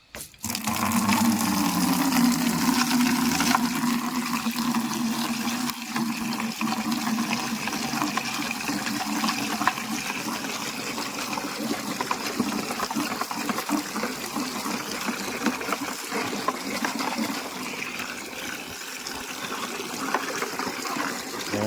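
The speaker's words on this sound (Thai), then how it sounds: "ใส่น้ำเต็มถังเลยนะครับ" Water pours steadily into a tank to mix a fertilizer solution for durian trees, a continuous loud gushing and splashing that holds for the whole stretch without speech.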